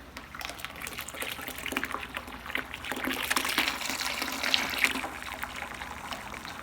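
Steady trickling and splashing of water draining from an ultrasonic cleaner into a bucket, continuous and close, with no talking.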